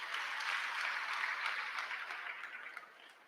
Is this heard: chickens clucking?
no